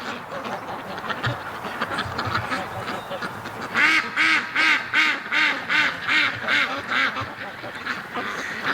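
A female duck quacks in a rhythmic series of about eight loud, close calls in winter, following a drake's mating, with a low murmur of background noise before the quacking begins.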